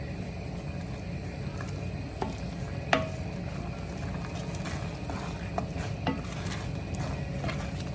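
Mushroom risotto bubbles in a pot while a spoon stirs it steadily, giving soft scraping and occasional light clicks against the pot over a low rumbling simmer, without talk.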